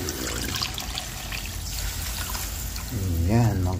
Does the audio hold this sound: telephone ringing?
no